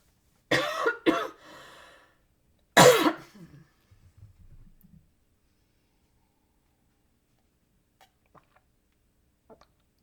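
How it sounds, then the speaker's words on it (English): A person coughs alone: two sharp coughs, then a heavier single cough a moment later, followed by faint throat sounds and a few soft clicks in near silence. "let me cough first and drink some water"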